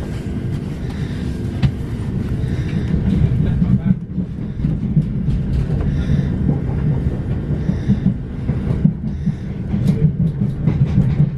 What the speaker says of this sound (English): Very busy again, this train.